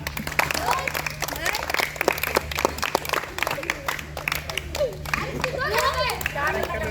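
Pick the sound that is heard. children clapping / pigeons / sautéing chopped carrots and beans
children clapping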